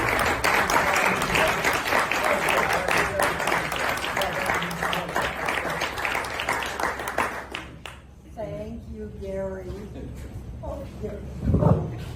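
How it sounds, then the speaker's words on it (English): An audience gives loud, sustained applause for Susan Dellinger at a talk on the 1919 World Series mystery, a thick roar of clapping that fades out after several seconds, followed by someone beginning to speak. "give a loud roar of applause for Susan Dellinger"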